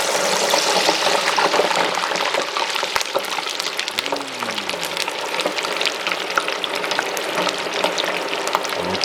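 French fries frying in hot oil for a home-cooked burger meal, a loud continuous close sizzle and bubbling crackle with occasional stirring clinks.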